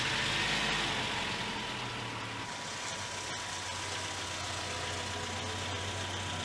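A car engine idles at night in a steady low rumble, close and continuous, with a faint whine and light mechanical ticking and no talking over it.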